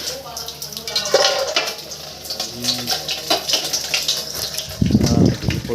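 Water gushes from a tap into a washtub, steady splashing and pouring throughout with a heavier rush near the end, while a person talks over it.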